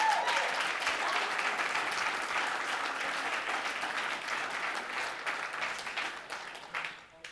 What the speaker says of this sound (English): Thank you for clapping at that.